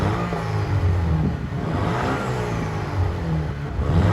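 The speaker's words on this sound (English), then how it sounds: "let's just give it a bit of revs" A stock-exhaust Audi A5 with a 2.0 TFSI engine revs up from idle, its engine note rising and falling steadily and close by, with no one speaking.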